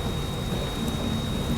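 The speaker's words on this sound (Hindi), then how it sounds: "एकदम तगड़ी बारिश हो रही है।" Heavy monsoon rain pours steadily outside a train halted at the outer signal of DDU railway station, a dense continuous hiss close by with no voices.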